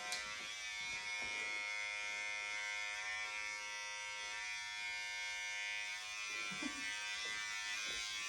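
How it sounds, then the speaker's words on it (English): An electric hair trimmer buzzes steadily and close by while it removes extra hair from a man's ear during an at-home haircut, with a constant high whine that holds the whole time and small shifts in pitch as it touches the hair. "take your trimmer, take any sort of extra hair off the ear."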